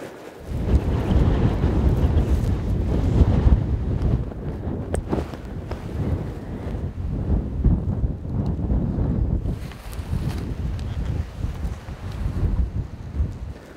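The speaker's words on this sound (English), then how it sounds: "It's crazy windy today, so all the caribou are kind of sticking in the brush." Strong, gusty wind in Newfoundland buffets the microphone continuously, a loud roaring rumble that swells and eases over several seconds with no voices.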